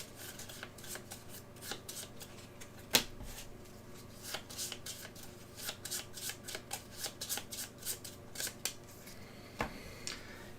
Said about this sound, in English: we shuffle up our AI cards, our AI strategy cards.